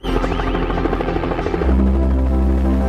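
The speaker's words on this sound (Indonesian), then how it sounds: "tiba-tiba ada sebuah helikopter yang datang" A helicopter arrives with a loud, close rotor whop-whop and turbine whine, the pulsing chop giving way to a heavier low drone as it comes in.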